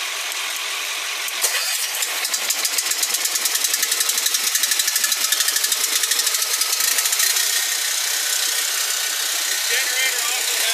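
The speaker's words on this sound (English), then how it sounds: "then you will start the generator" A fire truck's generator, started with a turn key after setting choke and gas, cranks and catches into a rapid mechanical chatter of regular pulses that settles into a steady, loud running drone.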